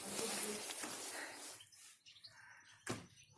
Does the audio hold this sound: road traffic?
no